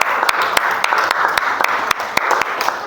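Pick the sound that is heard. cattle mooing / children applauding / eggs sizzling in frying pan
children applauding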